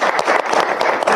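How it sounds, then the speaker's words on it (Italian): Brief burst of loud, dense audience applause at a municipal gathering in Italy, steady clapping from a crowd filling the whole moment with no pauses. "Direi un applauso a tutti"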